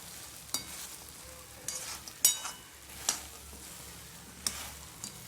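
Soybean chilli gravy sizzles quietly in a pan while a spoon stirs it, making several sharp scraping clicks against the metal over a soft frying hiss, fairly faint and close.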